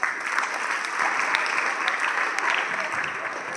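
An audience at an Independence Day event applauding, a dense sustained clapping that stays steady and loud throughout.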